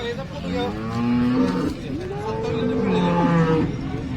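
Several loud, drawn-out cow moos overlap one another, deep and close, with other cattle lowing in the background at the Sangola cow market in Maharashtra.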